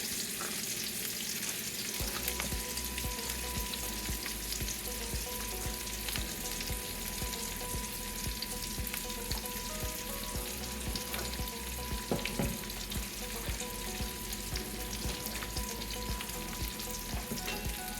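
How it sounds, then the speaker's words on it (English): Steady sizzling of onion and bacon sautéing in a pan for haluski, continuous and close, with occasional stirring clatter and no talking. "now we want to saute this onion down"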